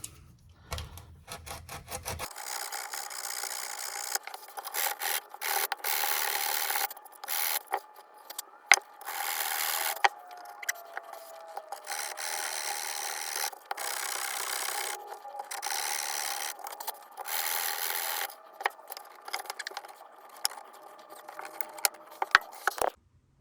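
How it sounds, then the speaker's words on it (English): A wooden bass guitar kit body, a copy of a Rickenbacker bass, sanded by hand with coarse 60 grit sandpaper, heard as steady close rasping strokes in long repeated runs with brief pauses between them. "I found me some 60 grit, nice and coarse"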